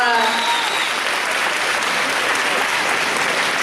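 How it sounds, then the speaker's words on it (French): Audience applause at a manga convention cosplay contest, a thick, sustained roar of clapping from a large crowd, loud and even across the stretch, with a voice briefly audible at the very start. "Applaudis bien fort."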